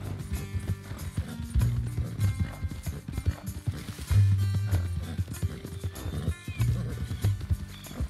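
A horse in Red Dead Redemption 2 trots with steady clip-clop hoofbeats and lets out several loud whinnies, close by, with people talking over it at times.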